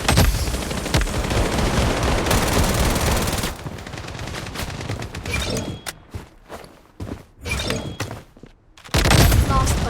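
Gunfire in the shooter game Blood Strike: dense bursts of automatic rifle fire rattle loudly, then give way to sharp, separate shots and short volleys with brief gaps between them.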